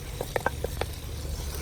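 Spices and green chilies tossed into hot oil in a clay pot over a village fire give a few quick sizzling bursts and stirring clatters, then a steady low crackle, with no talking.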